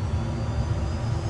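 Jet engine spooling up through ignition during start-up of a single-pilot business jet, a steady loud roar with a broad rumbling low end, no voices.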